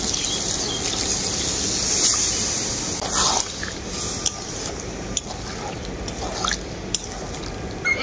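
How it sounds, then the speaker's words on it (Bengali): Water is poured into a pan of spiced bottle gourd and potato for a prawn curry, a close gushing pour over the first few seconds, then scattered drips and light clinks. "এর মধ্যে দিয়ে দেব পরিমাণ মতো জল।"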